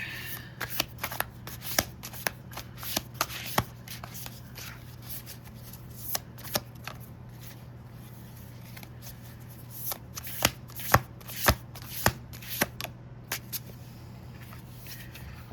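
Tarot cards being shuffled over and over, a steady run of soft riffling flicks and taps, fairly close and quiet, with no one talking.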